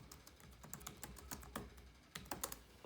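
Quiet keystrokes on a computer keyboard as a password is entered, irregular clusters of light clicks with short pauses, close but faint.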